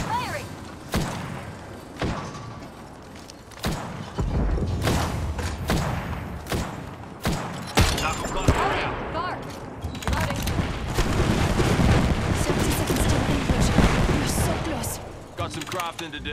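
Gunfire and heavy thumping blasts in a video game battle, dense bursts of shots and booms stacked over continuous game noise, with voices talking throughout.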